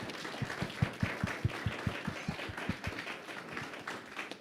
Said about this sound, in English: I'd love for us to just give these students and teachers a round of applause for leading their own learning